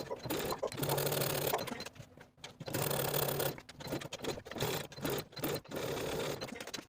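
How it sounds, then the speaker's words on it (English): A sewing machine stitches the outer curved edges of a sleeve placket with a quarter-inch seam allowance, running in several close bursts of rapid humming with short pauses between. "sew around the outer curved edges with a 1/4 inch seam allowance."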